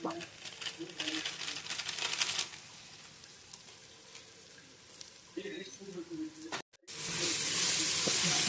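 Spices and garam masala sauté for chicken biryani with a close, crackling sizzle and stirring scrapes, underneath a voice speaking, ending in a sudden loud hiss after a brief drop.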